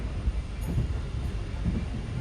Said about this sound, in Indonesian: Sesaat lagi kereta api Taksaka Tambahan akan tiba dan berhenti di stasiun Jatinegara.